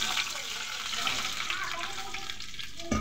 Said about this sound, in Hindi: आधा कप पानी डाल देंगे